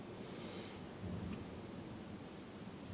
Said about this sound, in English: Can you hear the thunder now?